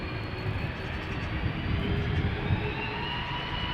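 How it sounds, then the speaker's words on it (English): KLM Airbus A330-200 airliner at Amsterdam Schiphol's Polderbaan runway, its jet engines producing a continuous, dense rumbling roar that swells slightly midway, heard alone at moderate distance. "KLM flight 537 to Kigali is what we are now looking at. It's an A330-200."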